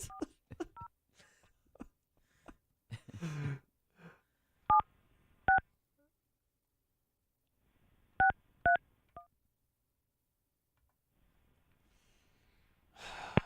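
Several touch-tone keypad beeps sound in short bursts and pairs, with breathy sighs and small handling noises in between, otherwise quiet.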